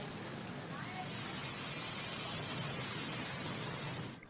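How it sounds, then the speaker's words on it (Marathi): Heavy monsoon downpour in Maharashtra, a dense, steady hiss of rain falling continuously and loudly before cutting off abruptly at the end, with a news voice over it. "राज्याच्या अनेक भागात मुसळधार पाऊस पडतोय"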